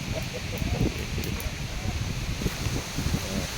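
Strong wind gusting across the grounds of a Buddhist temple, a steady blustery rush and rustle buffeting the microphone, fairly loud and continuous throughout, with a voice speaking over it.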